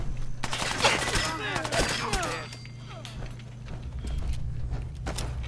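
Rapid gunfire in the video game Fallout 4 crackles in dense bursts early on, then thins to scattered shots, with someone talking over the first half.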